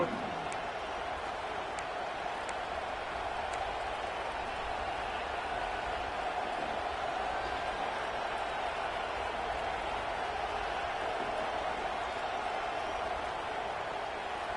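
Stadium crowd noise in the college football video game NCAA 26, a constant dense roar of many voices holding at an even level throughout, with faint scattered shouts standing out.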